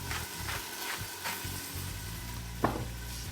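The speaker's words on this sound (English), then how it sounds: "Let's give it a stir." Rice and beans sizzle in a Ninja Foodi as a spoon stirs them, soft scraping strokes over a constant frying hiss with one sharper clack near the end.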